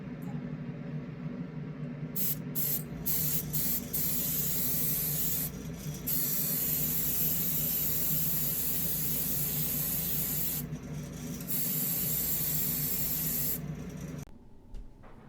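Close, steady hiss of a spray can applying white paint to a Matchbox Mercury police toy car, held in long bursts with a few short pauses between passes, ending abruptly.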